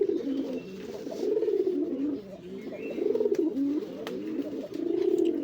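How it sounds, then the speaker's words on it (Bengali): A male Raj Golla pigeon gives deep, throaty coos, repeated in a steady rolling rhythm at close range with no other sounds. "রাজগোল্লা কবুতর আছে, দেখেন নরটা কিন্তু ডাক কিন্তু খুব মোটা ডাক"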